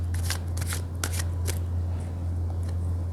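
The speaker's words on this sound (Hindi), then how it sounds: "पहले मैं कार्ड्स पुल आउट कर लेती हूँ" A deck of tarot cards is shuffled by hand, with a few quick riffling bursts followed by quieter sliding as cards are drawn out, close and soft over a steady low hum.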